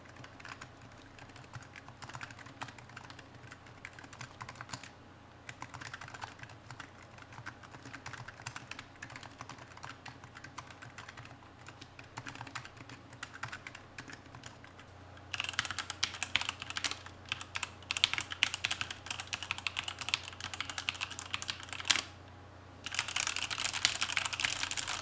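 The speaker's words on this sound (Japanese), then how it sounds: "じゃあちょっと比べるんで聞いてみてください。 まずハンツマンミニは改造も何もしてない標準の状態。" Steady typing on a mechanical keyboard, first soft and muted on a stock Razer Huntsman Mini, then a louder, clackier stretch of rapid keystrokes from another keyboard with Outemu red switches.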